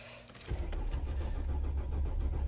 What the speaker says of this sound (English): My car is too cold to start.